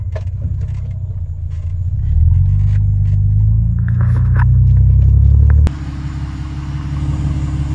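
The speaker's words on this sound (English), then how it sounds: "I'm gonna take a quick drive real quick" A Mercedes W210 car being driven, heard from inside as a steady low road rumble that swells for a few seconds and then drops abruptly, with faint rattles and no talk.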